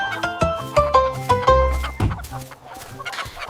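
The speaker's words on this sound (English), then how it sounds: "chickens clucked to start the day" Chickens cluck in a short run of rhythmic, punchy calls within a children's nursery rhyme song, loud and up front over a musical backing.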